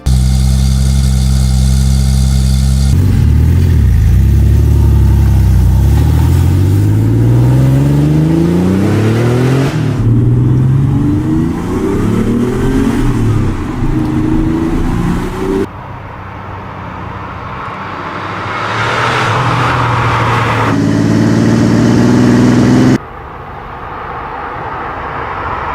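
Porsche 911 Turbo, 964-era single-turbo rear-drive model, in a Need for Speed racing game: loud engine sweeps rising and falling through several gear changes, with idle stretches between revs.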